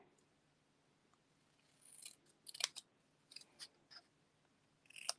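Scissors cut paper strips for a handmade card: a handful of crisp, close snips in short bursts after a quiet start, with no talking.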